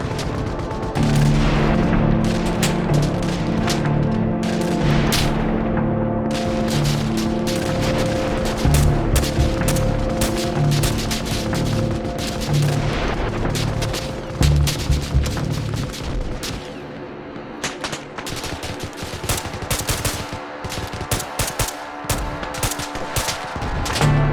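Sustained gunfire in the military game Arma Reforger crackles through nearly the whole stretch as rapid, overlapping loud shots, heavy and continuous at first and thinning toward the end.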